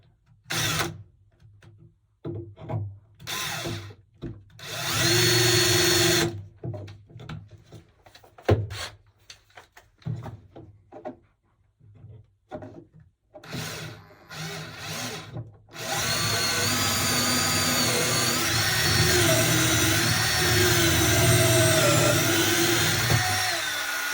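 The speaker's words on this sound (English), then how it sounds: "let's put a couple of screws in here" Short bursts from a power drill driving screws into white oak on a Pearson Ensign sailboat's chain plate work, with clunks and handling noises between them, then a long, continuous high-pitched whine near the end.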